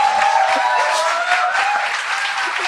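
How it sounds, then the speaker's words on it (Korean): Steady applause from an audience, a dense wash of clapping that holds evenly throughout at a fairly loud level. "박수 그만 쳐!"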